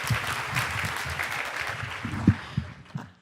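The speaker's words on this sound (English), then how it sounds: "so please give her a round of applause" An audience at an educator-of-the-year event applauds an honored assistant principal, a continuous wash of clapping with a few louder, heavier thumps near the microphone toward the end.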